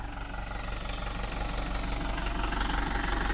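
A tractor engine runs close by with a steady, knocking diesel chug, a loud rhythmic throb that continues without letting up and with no talk over it.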